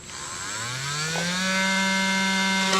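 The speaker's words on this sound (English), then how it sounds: "now I'm just going to use my multi-tool and just get this cut out." An oscillating multi-tool cuts out a section of plastic panel on a 2026 Kia Carnival, a steady high-pitched buzzing whine that rises in pitch and holds close and loud for nearly three seconds.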